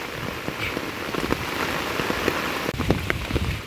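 Steady, dense rain from Cyclone Remal pours down on a farm, a constant broadband hiss with scattered heavier drops spattering nearby throughout.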